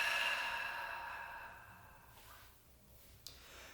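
A person exhales slowly and audibly during guided meditation breathing, a soft close breathy sigh fading out, followed by a faint small click.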